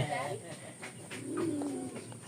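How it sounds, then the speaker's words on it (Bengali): A pair of Maxi pigeons coos softly, with a low throaty coo swelling in the middle among faint background sounds. "আমাদের একজোড়া মাক্সি কবুতর চলে যাচ্ছে"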